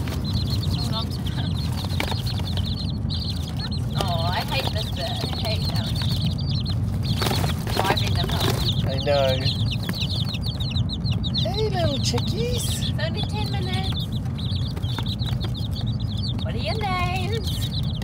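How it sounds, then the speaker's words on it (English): Chickens and small chicks cluck and peep in a French country garden, with high chirps scattered over a continuous rumbling background. "So we got chickens! We got chicks."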